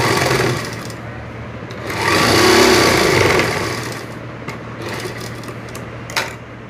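A sewing machine runs a line of stitches along a pajama seam, a loud, close mechanical whir that rises to a fast steady hum in the middle, then slows with a few clicking stops near the end.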